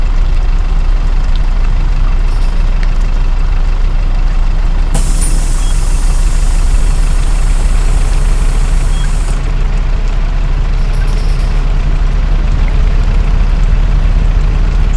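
A vehicle engine idles at night in heavy rain, a loud steady low rumble with a constant hiss of rain, brightened by a harsher rushing burst in the middle.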